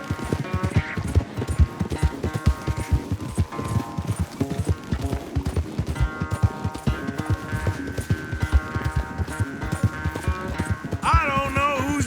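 Horses gallop hard in a race in Red Dead Redemption 2, a dense, rapid drumming of hooves that keeps up throughout, layered with tonal background music and occasional voices.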